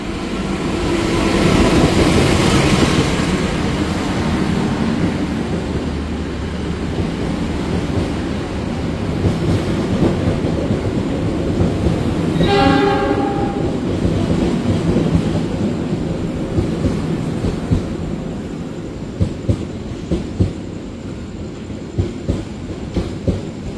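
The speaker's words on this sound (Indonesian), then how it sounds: "ini dia rangkaian kereta api Gumarang" The Gumarang passenger train rolls past close by, its locomotive and a long string of carriages giving a loud, steady rumble with rattling wheels throughout. A brief horn note cuts in midway, and faint clacks sound near the end.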